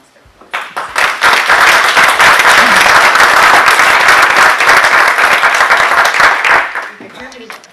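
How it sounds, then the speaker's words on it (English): A conference audience at Lagan College in Belfast applauds its speakers, dense sustained clapping swelling quickly, holding loud and steady for several seconds, then tapering off. "give a round of applause for all of our speakers"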